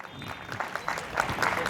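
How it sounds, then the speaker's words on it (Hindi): Brief burst of audience clapping for the main sponsor at an advocates' state-level cricket league event, starting thin and swelling slightly over under two seconds. "एक बार जोरदार तालियां इनके लिए"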